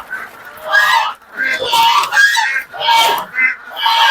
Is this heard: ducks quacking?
yes